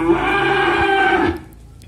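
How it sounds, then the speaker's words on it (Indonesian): Simmental calves at a cattle farm give a single sustained, loud, close moo lasting about a second and a half, then quieter background. "Pedetan sapi simental atau bakalan sapi simental."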